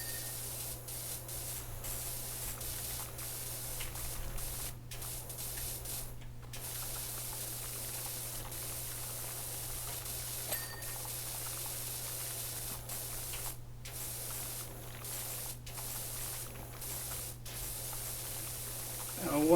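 Steady hiss of a power washer spraying water in Power Wash Simulator, a continuous jet with brief pauses and a constant low hum beneath it.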